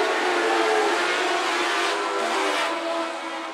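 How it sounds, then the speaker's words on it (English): Rocky Mountain Dwarf Cars racing in a B feature at Phillips County Raceway, a loud steady engine drone with shifting whining tones as the pack passes, fading slightly at the end. "Green flag racing here for the B feature in the Rocky Mountain Dwarf Cars."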